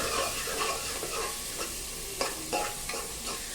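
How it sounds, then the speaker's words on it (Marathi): Coriander, onion and spiced masala being sautéed in a pan for stuffed brinjal, giving a steady soft sizzle with a few brief spoon scrapes and stirs near the end. "हे सगळं याच्यामध्ये मी परतून घेते"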